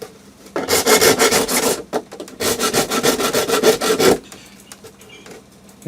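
Hand file rasping across a full-size 3D printed bear sculpture, close and loud in two long bursts of rapid back-and-forth strokes with a brief pause between, then quiet.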